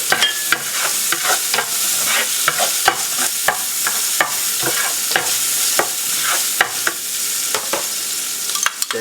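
Onions sizzle in a pot for a second sauté while cooking seafood pansit Malabon, a steady frying hiss broken by regular scraping clinks of a spoon stirring against the pot.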